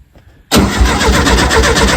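A car called Rusty, newly fitted with a replacement engine, cranks and fires up abruptly after a moment of near silence, then runs on loud and rough at a steady idle.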